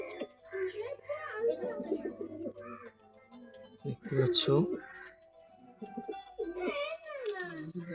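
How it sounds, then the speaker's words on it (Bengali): A Motiyal pigeon brought from Pakistan coos in soft, throaty bursts close by, overlapping with people, including a child, talking nearby. "ডাইরেক্ট পাকিস্তানি পায়রা এটা, মতিয়াল"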